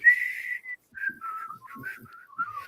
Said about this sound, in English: we tried to get them to whistle the bridge of the River Kwai